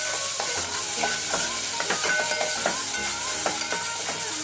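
Chopped tomato hits hot oil already fried with chili, garlic and curry leaves as the tempering for dal. A loud, steady, close sizzle and hiss runs unbroken, with faint stirring clatter underneath.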